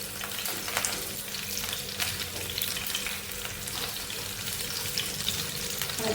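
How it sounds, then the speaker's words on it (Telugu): Green chilies fry in very hot oil for a restaurant-style prawn curry, a loud, steady sizzle with occasional stirring scrapes, close up and without voices. "ఇప్పుడు ఆయిల్ హీట్ ఎక్కువ కదా, ఇందులో మనం పచ్చిమిర్చి చేద్దాం."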